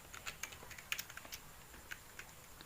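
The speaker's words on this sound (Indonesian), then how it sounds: "Kita ketik localhost" Quick, light clicks of a computer keyboard being typed on, a short burst of close keystrokes in an otherwise quiet room.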